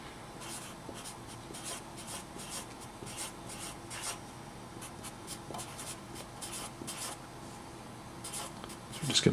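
Pen scratching steadily across paper as figures are written down by hand, a continuous close dry scribbling with short rhythmic strokes and brief pauses, quiet and alone.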